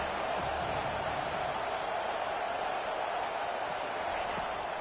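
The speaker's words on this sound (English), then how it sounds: "Decibels rising as the crowd gets behind this defense on third down." Steady stadium crowd roar in a college football video game, building on a third-down defensive stand, a constant dense wash of distant cheering heard alone without clear talk.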